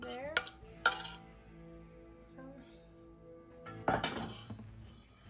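A spoon stirring lemon cornstarch slurry into simmering cherry sauce in a pot, a few sharp metallic clinks against the pot with quieter stirring between, faint overall, with one brief spoken word.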